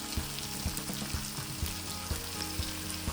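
Paneer tikka frying gently in a little oil over low heat, a soft, even sizzle with faint regular spatula taps, quiet and close.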